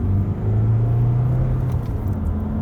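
A 2017 Honda CR-V SE with a 1.6 i-DTEC diesel engine pulls through second gear, a steady close low engine drone and rumble that rises slightly in pitch.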